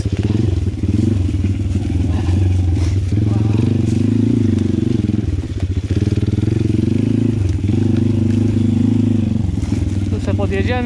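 A Pitgang 140XD pit bike engine drones loud and close while being ridden up a frozen slope, the steady buzzing note rising and falling with throttle changes.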